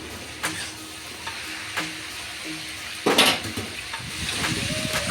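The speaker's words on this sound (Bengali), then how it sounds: "নুন দিয়ে বেশ ভালো করে নাড়াচাড়া দিয়ে ভালো করে ভেজে নেব" Mixed vegetables and soybean fry in a pan with a low, steady sizzle. A utensil clinks and scrapes now and then as they are stirred, with one louder clatter partway through.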